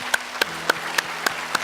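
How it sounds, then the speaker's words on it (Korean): A church congregation at a Sunday evening worship service in Korea claps together in unison, six sharp, evenly spaced claps over less than two seconds. "우리 주님께 영광의 박수 올려드립니다."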